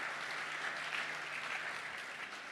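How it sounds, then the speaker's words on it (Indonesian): A church congregation at a Sunday service applauds in a steady, dense wash of clapping that holds evenly throughout, fairly close and full, with no voices over it. "Tepuk tangan Tuhan Yesus."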